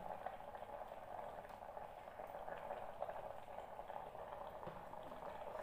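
A facial steamer puts out a soft, continuous bubbling hiss of steam, faint and steady throughout with no talking.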